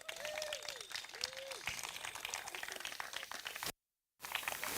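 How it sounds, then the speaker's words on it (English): Audience applause for the skiers at the 2024 Junior Canadian Open Waterski Tournament, a faint, dense patter of clapping with brief voices, then a short dropout before the clapping resumes. "A round of applause for all the skiers."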